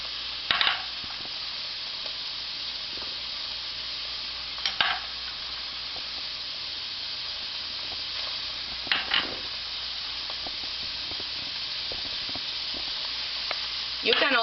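Sofrito vegetables and garlic sizzling in a pan as a steady hiss from start to end, with a few louder stirring scrapes spread through it.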